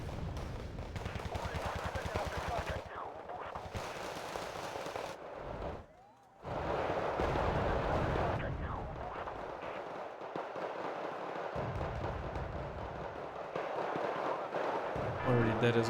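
Artillery bombardment in a video game fires in dense, rough bursts of shots and blasts that keep overlapping, broken by a brief lull, with talk now and then over the barrage.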